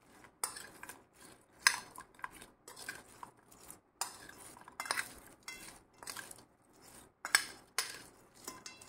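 A spoon clinks and scrapes against a bowl while mixing spiced potato bites seasoned with coriander, chaat masala and lemon juice, in quiet irregular bursts with short pauses, no voices.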